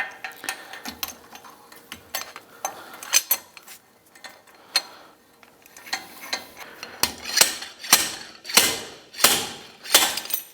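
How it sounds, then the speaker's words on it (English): A three-jaw puller extracts the thrust ring and shims from a MerCruiser Bravo One drive, giving sharp metallic clicks, scrapes and clanks that grow louder and more rhythmic toward the end, close up. "I'm just using a 3-jaw puller to reach in there and extract them"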